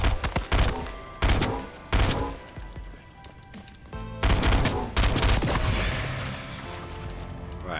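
Submachine gun fire in Fortnite, sharp bursts of automatic shots in several volleys, loud and close, with game effects ringing between bursts and no talk.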